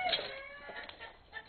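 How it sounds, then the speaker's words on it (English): A single rooster crow, thin and somewhat distant, rising then trailing off. "I hear a rooster crowing."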